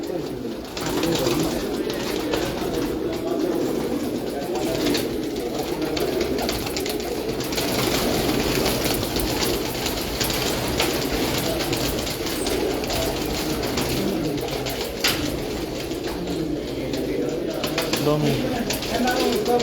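Rooftop pigeons coo in a steady low murmur after being let out, mixed with faint rustling and flapping, while people talk nearby throughout.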